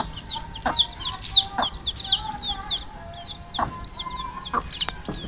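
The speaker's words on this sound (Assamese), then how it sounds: "এই মুৰ্গীটোক চাওক" Hens cluck in short repeated bursts close by on a rural Assamese homestead, with a few sharper calls and faint background noise, no voices.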